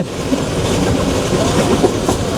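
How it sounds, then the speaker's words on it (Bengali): The Joyantika Express between Dhaka and Sylhet runs on the rails through a curve, a loud, continuous rumble with rhythmic clickety-clack of wheels heard from on board. "দুর্দান্ত একটা কার্ভ নিয়ে ছুটে চলেছে আমাদের জয়ন্তিকা এক্সপ্রেস বানুগাছ রেলওয়ে স্টেশনের উদ্দেশ্যে"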